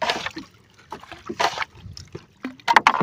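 Water splashes and sloshes into a small boat tossed by strong waves and wind, with irregular close splashes and trickles over faint background sounds.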